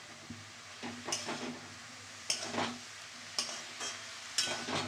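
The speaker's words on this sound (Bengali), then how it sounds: "এবার আমি ভালো করে ভেজে নেব শাকটা।" Red amaranth greens with green chilli, salt and a little turmeric being fried in a pan, soft sizzling under several distinct spatula strokes that scrape and toss the leaves at uneven intervals, close by with no talking.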